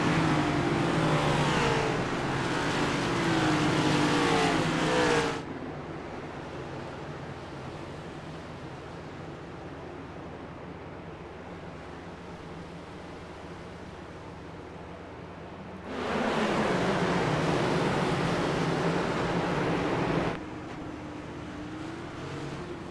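In the iRacing video game, a full field of stock cars at Richmond roars past behind the pace car, a dense, loud engine wash that swells, eases to a steady drone, then surges again as another pack passes.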